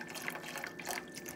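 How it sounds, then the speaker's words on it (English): Beef bone broth poured into a pot for hot pot, a steady close liquid splash and trickle with small gurgling drips, quiet and alone. "So we're going to pour that beef broth,"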